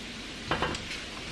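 Shrimp frying in a pan for keto shrimp fried cauliflower rice, with a faint steady sizzle and a couple of brief stirring scrapes in quick succession.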